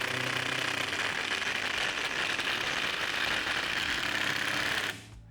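A Procraft Industrial cordless impact driver on first speed drives a 95 mm long, 6 mm lag screw with a dense, continuous loud rattling hammer that runs for several seconds and then stops abruptly.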